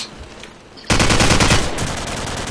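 AK47 automatic fire in Call of Duty 4 kicks in abruptly after a quiet start, a loud, dense burst of rapid shots that continues steadily to the end.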